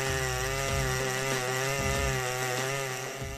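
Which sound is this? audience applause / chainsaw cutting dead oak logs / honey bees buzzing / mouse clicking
chainsaw cutting dead oak logs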